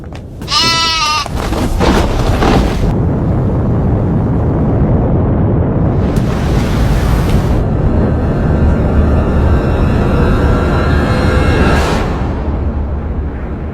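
An avalanche roars down a mountain as one loud, continuous rumble that fills the whole stretch, with a brief bleat-like animal cry near the start.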